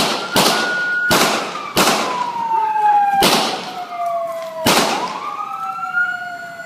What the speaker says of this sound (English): Here's the audio of those few seconds, including the 6 gunshots